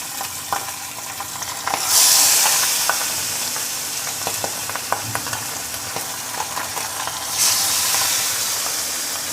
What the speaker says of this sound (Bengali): তেল গরম হয়ে গেছে, এখন আমি মাছগুলো ভাজার জন্য এক এক করে কড়াইয়ের মধ্যে ছেড়ে দিচ্ছি।